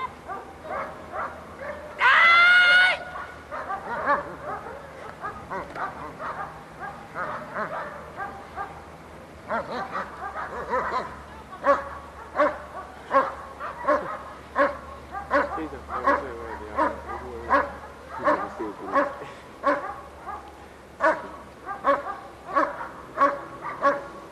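A dog barks repeatedly in quick rhythmic bursts at an IPO dog sport competition in 1997, loud and close, after a brief sharp high-pitched sound near the start.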